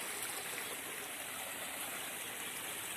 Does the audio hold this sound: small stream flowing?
yes